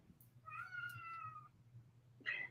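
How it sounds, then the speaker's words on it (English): A house cat gives one drawn-out, fairly faint meow, then a short second cry after a pause, heard indoors against a low steady hum with no talking. "that your cat?"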